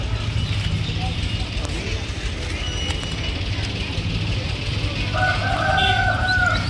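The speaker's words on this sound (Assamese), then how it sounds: "অৰিজিনাল পাতি হাঁহৰ পোৱালি ডেলিভাৰী কৰি আছোঁ।" Local duck chicks being loaded for delivery give a burst of high, thin peeping calls near the end, rising over a constant background hum.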